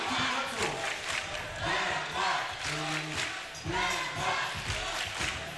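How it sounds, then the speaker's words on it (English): Arena crowd at a FIBA 3x3 Europe Cup basketball game roars and shouts in support of Denmark, a dense sustained wall of voices with swelling cheers and occasional thuds from play on court. "Crowd getting behind Denmark."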